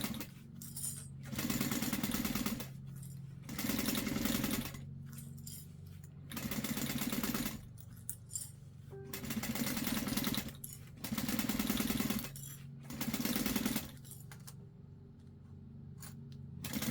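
A sewing machine stitches a backpack in repeated bursts of about a second each, with short pauses between runs, loud and close, with no talk.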